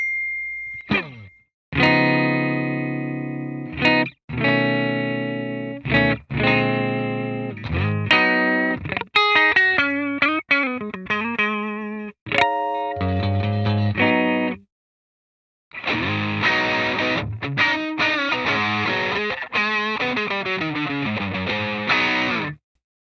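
Heavily distorted electric guitar through a Jekyll & Hyde overdrive/distortion pedal, playing chords and sustained notes, loud and buzzy, with brief pauses between phrases and a short silence before a final dense strummed section.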